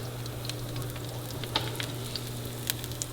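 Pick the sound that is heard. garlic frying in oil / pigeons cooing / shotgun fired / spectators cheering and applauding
garlic frying in oil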